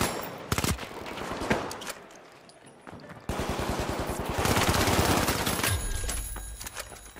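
Pistol fire from the video game The Finals cracks out in sharp, rapid bursts, scattered shots at first, then a dense, loud volley of repeated reports that keeps going to the end.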